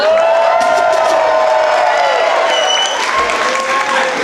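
A comedy club audience breaks into loud, sustained applause with cheers and whoops, a dense wash of clapping from the crowd.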